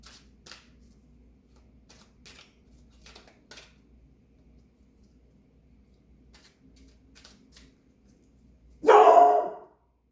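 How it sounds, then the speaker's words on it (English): A pet dog barks once near the end, a single sharp close bark after faint shuffling and soft handling sounds, with occasional light clicks and taps throughout. "That would be my dog, Hermione."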